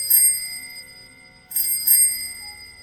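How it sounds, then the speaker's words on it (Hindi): A bicycle bell rings sharply in an otherwise silent scene as a horror sound effect: one bright ring, a pause, then two quick rings close together. "उस सन्नाटे को चीरती हुई एक साइकिल की घंटी ने जैसे मेरे रोम रोम को कपा दिया था"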